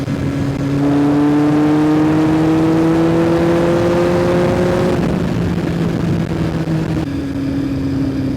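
A 1973 Honda motorcycle engine, custom built, revs under a lightly twisted throttle, its steady drone rising gradually in pitch, then easing and settling into a lower idle, loud and close.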